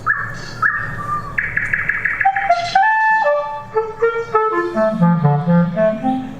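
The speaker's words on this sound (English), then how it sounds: "When I came to Berlin, I knew that nightingales were singing here, and I wanted to make music with them." A nightingale singing in Berlin, delivering a varied run of bright whistles, rapid repeated chirps and descending tones, close and clear with short pauses between phrases.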